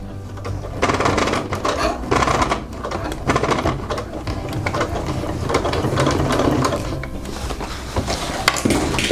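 A sewing machine hemming jeans, running at a steady clatter with dense mechanical ticking throughout, close and fairly loud with no talk.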